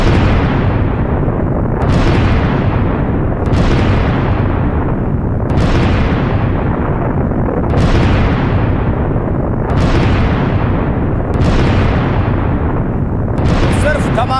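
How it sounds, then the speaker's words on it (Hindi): Missile strikes in war footage near the Strait of Hormuz, Iran, produce loud booming explosions, about seven blasts at regular intervals of roughly two seconds, each decaying into a heavy rumble. "सिर्फ धमाके ही धमाके सुन रहे हैं आप।"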